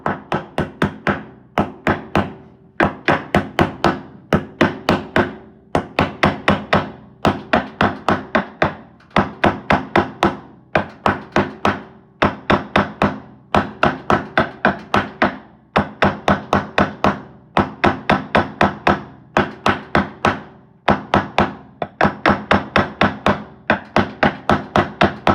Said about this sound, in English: I'll just tap around it with my hammer until I get the bearing fully seated in there.